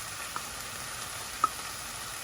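Mushrooms in melted butter sizzle steadily in a pan, with a constant hiss and a couple of faint clicks, and no voices.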